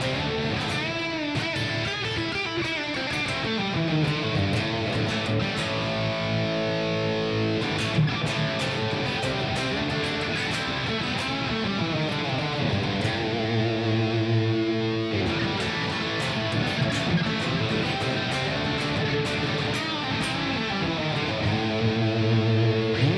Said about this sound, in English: Tape delay and reverb.